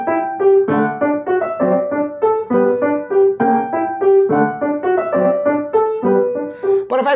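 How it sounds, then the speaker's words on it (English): The opening of Schumann's Scenes from Childhood on solo piano with no sustain pedal sounds dry and choppy, each melody note and chord clipped short with small gaps between them, played close and clear with no voices. "if you listen to it without the pedal, it sounds like this."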